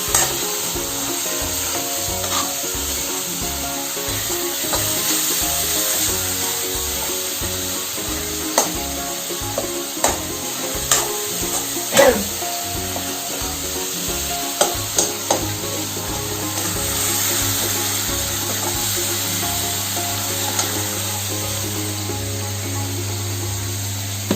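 Boiled jackfruit stir-fries in a pan with a steady sizzle, broken by repeated scraping and clacking of a spatula. Faint tonal background sound runs underneath throughout.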